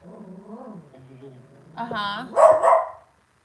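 Pet dog in a house giving a couple of loud, close barks near the end, after a stretch of quiet talking.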